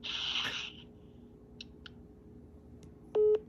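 A telephone line after the caller hangs up: a short burst of noise, then a few faint clicks and a single steady tone near the end.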